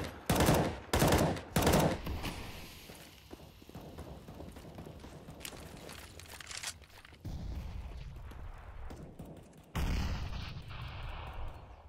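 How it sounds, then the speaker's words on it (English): Counter-Strike style competitive match in the Cloud9 vs UFC CyberPowerPC grand finals: a burst of sharp, loud bangs and pops at the start, then quieter shuffling, a later thud and a rising whistle-like sweep near the end. "Nice little bit of chunky nade thrown down on towards Kusta."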